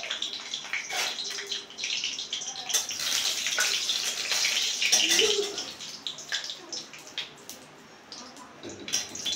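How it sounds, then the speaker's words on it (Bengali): Four dried red chillies spit in hot white cooking oil in a wok, giving irregular crackling bursts that swell and fade, fairly close and moderately quiet. "চারটে শুকনো লঙ্কা ফোড়ন দিয়ে দিলাম।"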